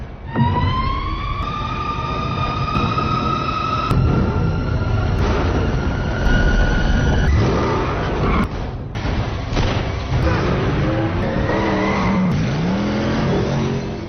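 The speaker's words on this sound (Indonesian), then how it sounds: "Terjadilah ugal-ugalan di tengah jalan ketika Bruce mengejar Penguin menggunakan mobil Batman-nya" A Batmobile chases the Penguin's car through traffic in The Batman film, with loud continuous engine roar, rising revs, tire squeals and siren-like wails, dense action sound throughout with no speech.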